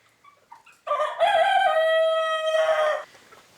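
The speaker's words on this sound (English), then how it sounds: "My rooster Nick has a lot to say while we're doing this video" A rooster in a chicken coop gives a few soft clucks, then one loud, close, drawn-out crow lasting about two seconds.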